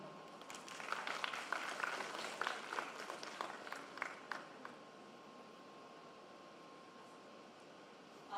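At a university gender and development forum, a small audience breaks into brief applause, a few seconds of scattered clapping that fades out halfway, leaving quiet room noise.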